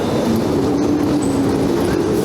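Kharkiv metro electric train running steadily, a continuous loud rumble and hum of the carriages with a sustained motor whine, heard up close from inside or beside the train.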